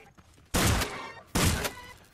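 Two spud shotgun blasts in the Scrap Mechanic survival game, each a loud, broad burst with a short decaying tail, spaced about a second apart with no talking over them.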